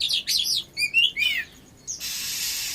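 Caged oriental magpie-robins give a quick run of sharp chirps and whistled notes, close and clear, followed by a hissing rasp.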